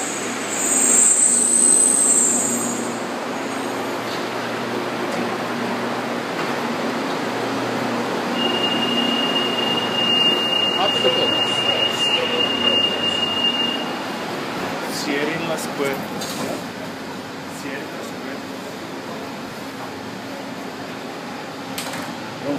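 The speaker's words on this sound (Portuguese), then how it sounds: "Chegou o metrô." A metro train rumbles steadily through a station in Santiago, Chile, with a broad, droning roar, a brief high-pitched tone and faint talk underneath.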